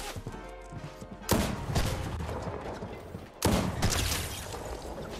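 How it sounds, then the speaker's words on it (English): Continuous rapid gunfire from a weapon stuck firing in a video game, a dense stream of shots with two louder bursts, heard fairly quietly through game audio. "Alex, my gun is stuck shooting."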